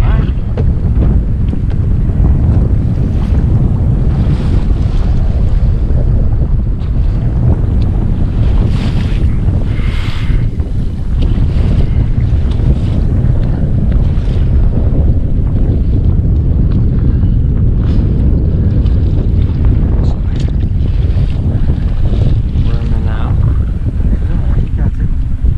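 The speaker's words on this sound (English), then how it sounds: "I can't turn the trolling motor off." A boat's trolling motor runs on the Missouri River under strong wind buffeting and water noise, with people talking over the steady rumble.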